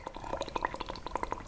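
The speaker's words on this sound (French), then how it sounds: "Donc vous voyez, quand j'arrête le son, mes bulles ne s'arrêtent pas." Bubbles blown through a straw into water during a speech therapy exercise, a steady run of small gurgling pops and drips, close and fairly quiet, with no voice over them.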